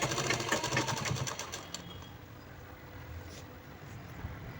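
Domestic sewing machine stitching a peplum top, a fast steady mechanical whirr with rapid needle ticking up close, then slowing into a lower hum as the stitching eases.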